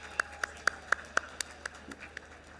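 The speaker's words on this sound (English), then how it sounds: "This has to be the loudest round of applause." Graduation ceremony audience at a university convocation clapping in sharp, evenly spaced bursts, about ten loud claps that thin out and soften toward the end, heard without talk.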